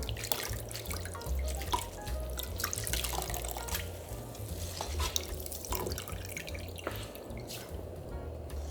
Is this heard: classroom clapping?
no